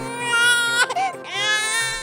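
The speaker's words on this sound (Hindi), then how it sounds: "कमरे के अंदर से छोटे बच्चे के रोने की आवाज आती है" A newborn baby cries in a cartoon story, a continuous high wailing cry with a brief catch in the middle, close and loud, with no talking.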